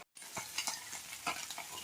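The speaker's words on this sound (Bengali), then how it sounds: "এই যে মাছ ভাজা হচ্ছে" Spice-coated fish fries softly in a pan, a faint steady sizzle with a few light spatula taps and scrapes close by.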